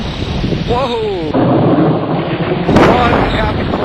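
Thunderstorm with thunder and rain, a loud rumbling wash over steady rain noise, with a voice exclaiming near the start and a sharper burst near the end.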